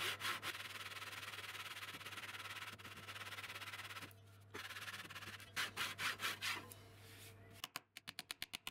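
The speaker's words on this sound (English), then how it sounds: "used my Japanese pull saw to cut the top of the dowels flush" A Japanese pull saw trims glued wooden dowels flush on a plywood armchair, rasping in steady back-and-forth strokes up close, with a short pause midway and quicker, choppier strokes near the end.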